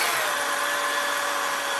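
A drill bit bores steadily through material, throwing off chips with a continuous, even, close whine and hiss and no pauses.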